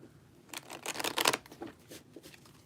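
Cards riffled and bridged in a few quick bursts, close and crisp, the rustle rising to a dense flutter then tapering into softer shuffles.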